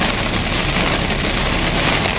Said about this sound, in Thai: ทีนี้ฝนตกหนักเลยครับทุกคนนะผมมองแค่ไม่เห็นทางเลยนะครับพี่